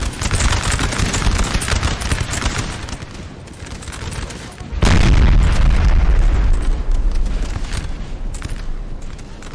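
Artillery and musket fire in the Napoleon Total War video game battle at Znaim, dense rolling volleys of gunfire and booming cannon shots, loud and continuous, with a heavier surge of blasts midway through.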